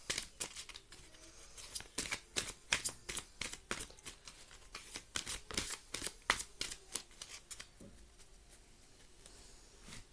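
Tarot cards are shuffled by hand in quick, crisp riffles and flicks, a dense run of close papery snaps that thins out near the end.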